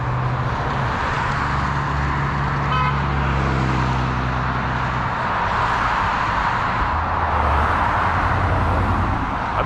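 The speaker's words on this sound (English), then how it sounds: "that was the very first honk I ever got today" A car horn honks at a pedestrian beside a road in Stockbridge, Georgia, sounding over a steady wash of passing traffic and engine rumble, with one short toot standing out from the continuous road noise.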